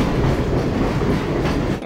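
Train cars rolling along rails in Half-Life, a loud steady rumble with rhythmic clickety-clack from the wheels that carries on for nearly two seconds before dropping off at the end.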